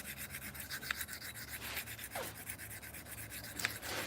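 A knife being sharpened on a diamond plate, with steady, faint gritty rubbing strokes running continuously and a few light scrapes standing out.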